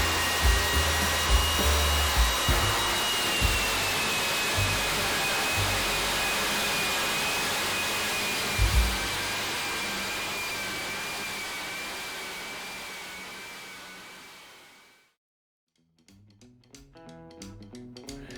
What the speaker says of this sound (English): So whatever the drum sander can't get to, the edger will